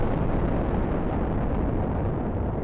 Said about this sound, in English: It was the first nuclear explosion in history.